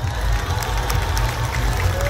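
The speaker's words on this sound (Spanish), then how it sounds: "Fuerte el aplauso." Audience at the 2012 Orange Fair coronation in Álamo Temapache, Veracruz, Mexico applauds steadily, a dense wash of clapping with crowd noise throughout.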